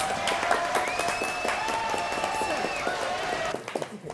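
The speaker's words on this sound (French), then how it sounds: "applaudissements à tous les trois" A television studio audience applauds three contestants on a French comedy game show, a steady wash of clapping under cheerful voices and a sustained tone, fading out near the end.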